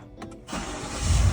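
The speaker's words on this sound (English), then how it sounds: "Let's try to start the car." A 2023 Chevy Suburban cranks and fires up: a short starter whir and a couple of quick clicks, then the engine catches into a steady, full idle rumble, heard close from inside the vehicle.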